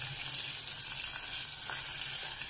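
Longganisa sausages sizzle in a pan cooked without added oil, giving a steady, close crackling fry with no voices.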